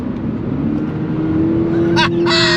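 A 2022 Subaru BRZ sports car pulls from second gear out to 7,500 rpm, its engine note loud and close, then breaks off briefly for the upshift near the end.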